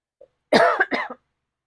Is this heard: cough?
yes